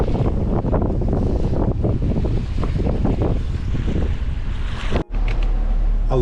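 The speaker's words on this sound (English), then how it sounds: "the winds have picked up, the waves have picked up" Strong wind buffets the microphone over the rush and slap of waves on Georgian Bay, roaring steadily with a brief dropout near the end.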